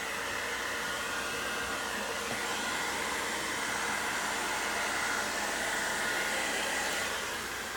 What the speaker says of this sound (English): So, pardon the noise while the hairdryer goes,